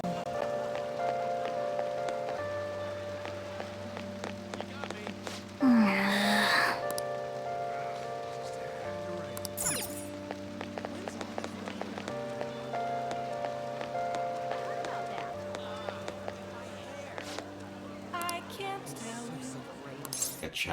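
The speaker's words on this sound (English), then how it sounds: "I don't like all this rain." Rain falls steadily in Persona 5 Royal, a soft constant patter under a looping music bed with a few clinks and a brief sharp effect.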